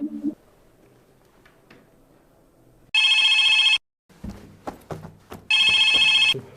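A telephone rings in two loud, steady electronic bursts about a second long, separated by a short pause with faint clatter and background sounds.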